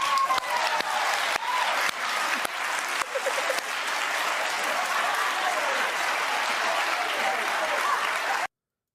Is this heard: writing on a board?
no